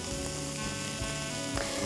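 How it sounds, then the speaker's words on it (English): A steady, dense sizzle of chicken frying without oil in a hot Zepter pan, close and continuous, with a faint hum underneath. "Sizzling away, smells good already."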